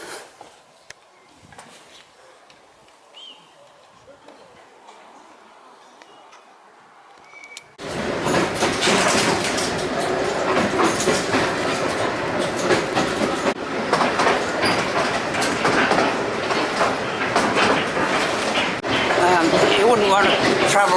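An old train on the Bala Lake railway in Britain rumbles and rattles along the track at about 12 miles an hour, loud and continuous after a quieter start, with clattering and metallic knocks throughout.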